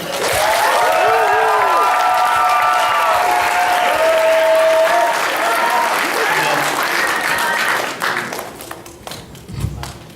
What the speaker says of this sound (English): So can we actually get another round of applause for her?